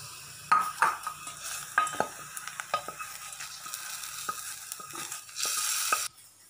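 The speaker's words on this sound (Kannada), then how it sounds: "ಒಗ್ಗರಣೆ ಆಗಿದೆ, ಸಾರಿಗೆ ಹಾಕ್ಕೊತಾ ಇದ್ದೀನಿ." Hot tempering for a greens sambar (massoppu saaru) poured into the pot, giving a loud burst of sizzling followed by metal spoon clinks and scraping as it is stirred in, with a final strong hiss before it cuts off.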